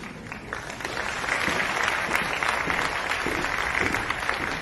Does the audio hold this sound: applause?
yes